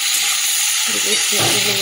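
Beetroot and potato pieces sizzle as they fry in a pan, a loud, steady hiss close to the microphone, with a voice briefly talking over it.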